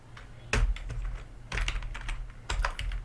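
Someone types code on a computer keyboard, with close, irregular bursts of keystrokes separated by brief pauses and no voices.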